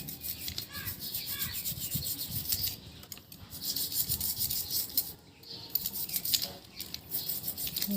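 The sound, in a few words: rubbing a conch-shell bangle (shakha) to clean it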